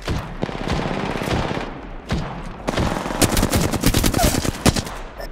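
Rapid automatic gunfire in the Apex Legends video game, loud bursts and rattling volleys of shots with short gaps, close and dominant throughout.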